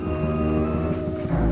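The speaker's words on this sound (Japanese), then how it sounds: "まだ電話鳴ってたわ" A telephone rings in Luigi's Mansion, the video game: a steady electronic bell tone, loud and close, with no talk over it.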